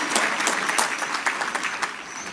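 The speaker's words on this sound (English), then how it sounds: "Clap for yourself." Audience applause in a lecture hall, dense steady clapping from a crowd throughout, loud and close, with no talk over it.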